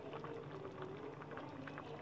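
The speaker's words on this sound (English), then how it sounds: "this is the boiling point" Caldereta stew bubbling in a pot, a quiet, steady simmer of small pops and gurgles with no talking.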